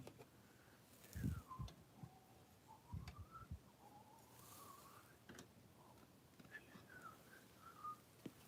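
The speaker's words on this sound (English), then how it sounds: "I have no idea why I'm whistling the Zelda theme" Someone whistles the Zelda theme, a soft melody in gliding phrases, faint and near, with a few light thumps and handling noises early on, during a Lego build.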